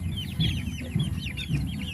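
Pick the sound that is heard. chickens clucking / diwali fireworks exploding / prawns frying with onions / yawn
chickens clucking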